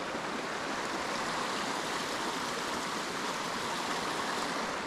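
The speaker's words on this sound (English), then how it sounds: "Got rocks coming down, waterfall coming down." Waterfall pouring over rocks in the Adirondack woods, a constant, even rush of falling water heard close and alone, steady throughout with no voices.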